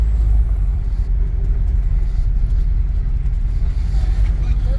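A vehicle rolls slowly through a fairground campground at a speedway race weekend, giving a steady, loud low engine and road rumble with no other distinct sounds.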